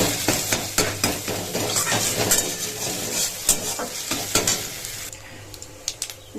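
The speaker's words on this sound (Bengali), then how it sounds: "প্রথমেই হচ্ছে ডিমটা ভেজে" An egg fries in a wok with a loud, continuous sizzle and scraping stirring strokes. Occasional metallic clinks come through, and the sizzle eases off toward the end.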